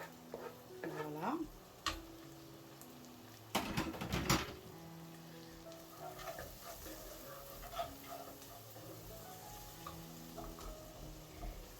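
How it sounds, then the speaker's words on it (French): Shrimp tajine with parsley and spices is stirred in a pan, giving a quiet, steady sizzle with scattered scraping and clinking of the utensil, including a louder clatter of strokes early on. "Et je vais bien mélanger."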